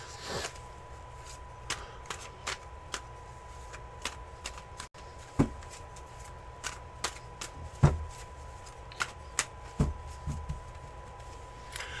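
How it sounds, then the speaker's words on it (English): Tarot cards are shuffled in a series of crisp riffles and snaps over a steady low hum, each burst sharp and close against a quiet room. "Here are your 6 official shuffles, Monroe."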